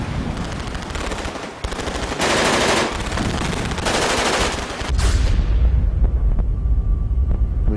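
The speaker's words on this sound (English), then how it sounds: "The machine gun just opened up." A machine gun fires long, dense bursts from clifftop positions during the D-Day beach landing, loud and close, giving way to a deep rumbling roar of battle after a few seconds.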